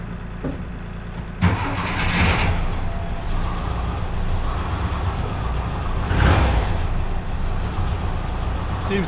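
A 1982 air-cooled VW Vanagon Westfalia engine cranks and catches, then runs at a loud, steady idle close by with a couple of revving swells.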